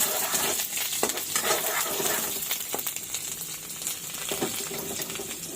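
Chopped onion fries in a hot pan with a steady close sizzle, punctuated by brief clicks and taps of stirring against the metal.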